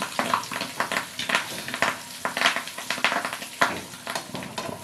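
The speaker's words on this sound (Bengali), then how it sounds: "প্রত্যেকটা ডিম কিন্তু একদম উল্টে পাল্টে ভালো করে ভেজে নিতে হবে।" Fish roe fritters shaped like small patties frying in hot oil in a pan, a steady crackling sizzle with irregular louder spits and pops throughout, close and alone.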